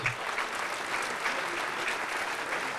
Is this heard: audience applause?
yes